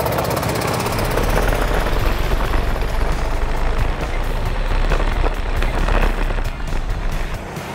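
A go-kart weaves in a zigzag and brakes repeatedly to build heat in its tires, giving a loud, continuous engine roar with rising and falling revs across the whole stretch.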